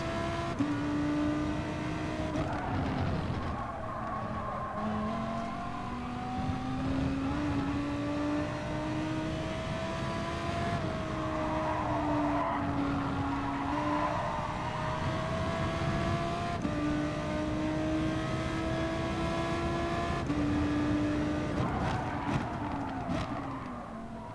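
A Gr3 race car in GT Sport at Catalunya holds a loud, continuous engine note that rises and drops through gear changes, with intermittent tire squeal as the rear loses grip.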